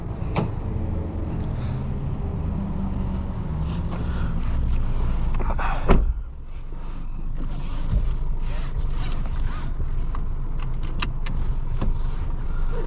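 2022 Honda HR-V with sport package on the road, a steady low rumble of engine and tyres from inside the cabin, with a brief thump and rustle midway, no talk.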